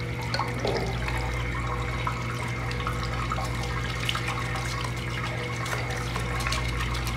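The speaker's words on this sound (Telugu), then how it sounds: "ఇలా రన్నింగ్ వాటర్తోనే మనకి ఇందులో క్లీన్ అయిపోతుందండి." Steady running tap water pours over and rinses a part of a slow juicer in a sink, a continuous close splashing stream with no pauses.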